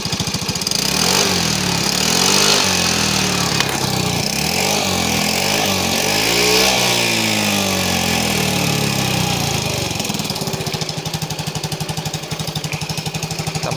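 Yamaha Mio M3 scooter with a newly replaced cylinder block, engine revved repeatedly, rising and falling through several throttle blips before dropping back to a rough, pulsing idle; loud and close.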